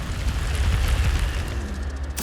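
A fire spell in Hogwarts Legacy gives a loud, sustained roaring whoosh of flame with rumbling low bursts, then ends in a sharp crackle.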